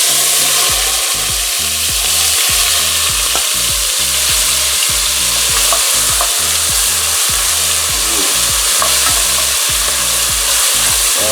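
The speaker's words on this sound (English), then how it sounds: "I'm going to put this in the oil now and saute it" Chopped onion sautéing in hot oil for a Jamaican pumpkin carrot rice, a loud, dense, continuous sizzle with a steady rhythmic stirring or scraping pattern underneath, close and unbroken, no talking.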